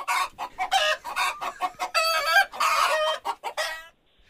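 Chickens cluck repeatedly and excitedly with a rooster-like crowing cry mixed in, a busy run of close, loud calls that stops abruptly near the end.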